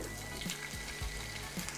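Bruschetta and pepper mix frying in olive oil in a non-stick pan, a soft steady sizzle and crackle with faint clinks, quiet and close, with no one speaking.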